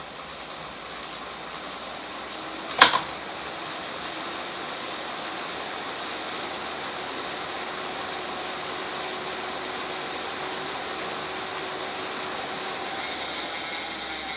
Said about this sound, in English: the Direto X is not as quiet as other trainers out there